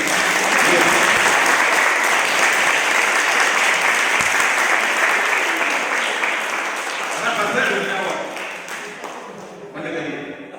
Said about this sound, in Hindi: अब इन हाथों को तालियों में तब्दील करो, तालियां बजाओ